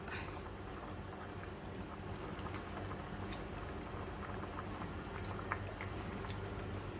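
Thai chicken curry with chicken feet and eggplant simmering in a pot, a continuous low bubbling and gurgling at an even level, no voices.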